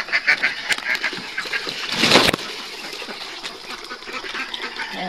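Ducks in a backyard farm quack and honk continuously before feeding, a busy, overlapping flock chorus heard close by with no talk.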